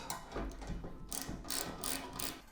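A hand ratchet loosens the roof rail bolts on a Honda Pilot Trailsport, giving quick runs of close, crisp metallic clicks in short bursts.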